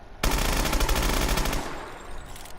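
Two PDW submachine guns, the Chop Chop and a second one, fire simultaneously in Call of Duty Advanced Warfare, a loud rapid automatic burst of about a second and a half that stops abruptly.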